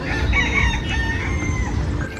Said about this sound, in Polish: Ten kogut tutaj chwilą piał.